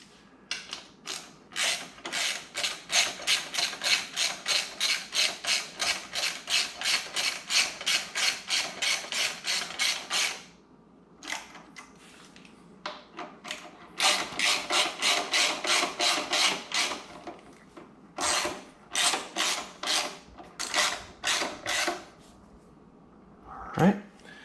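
Ratchet wrench tightening crash bar bolts on a 2020 Yamaha Tracer 900 GT motorcycle, long runs of rapid close clicking broken by short pauses and a few separate bursts.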